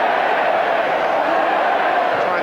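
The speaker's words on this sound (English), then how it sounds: "The crowd enjoying Charles' success there." Football stadium crowd at a 1991 Nottingham Forest versus Southampton cup replay, a dense continuous roar of cheering voices, loud and steady throughout with no breaks.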